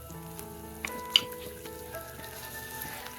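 Small onions frying in coconut oil for a Malabar spinach thoran, a soft steady sizzle with a couple of sharp crackles near the start, close and alone with no talking.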